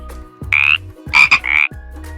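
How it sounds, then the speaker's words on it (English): A poison dart frog croaks in three loud, close bursts, one short call followed by a rapid double burst, with brief pauses between them and no other sounds around it. "poison dart frog"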